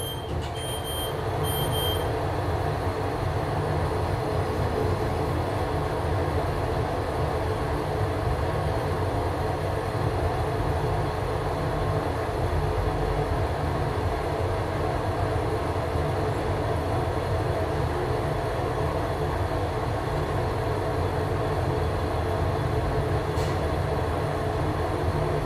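A Fujitec elevator in a Hougang HDB block travels down, giving a steady low mechanical rumble and hum that runs unbroken and fairly close for the whole descent, with a faint chime near the start.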